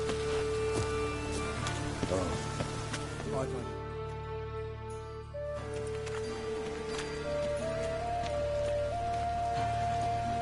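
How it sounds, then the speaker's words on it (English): Steady rain patters on surfaces in the video game The Witcher 3: Wild Hunt, with voices talking over it and a soft musical drone beneath. "Looks like rain."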